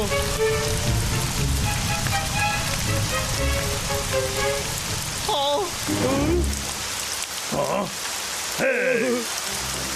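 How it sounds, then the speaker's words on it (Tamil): Rain pours in a Boonie Bears forest cartoon, a steady loud hiss beneath cartoon voices and sound effects, with the rain continuing throughout. "மழை பெய்யுதுடா"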